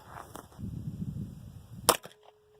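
A single sharp crack from an FN FNP 9 9mm pistol firing at a shooting range cuts through low rumbling background, followed by a quick fade to near silence.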